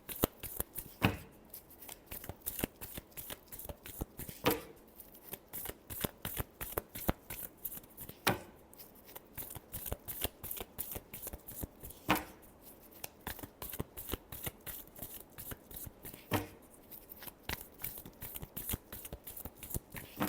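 Tarot cards being shuffled close up: a long run of quick, crisp riffling flutters and soft slaps, repeating steadily with a few sharper snaps, and no one talking.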